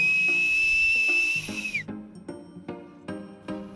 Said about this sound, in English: Okay, and last, the two-handed whistle.